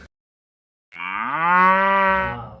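A cow gives one long, loud, close-up moo that rises and holds before trailing off, alone after a moment of silence.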